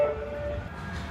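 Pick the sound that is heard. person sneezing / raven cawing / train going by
train going by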